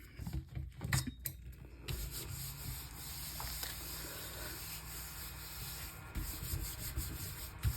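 Hand rubbing over a freshly painted surface to lift the wet blue paint, a steady close scratchy scrubbing that continues throughout with a few brief louder scuffs, no voices.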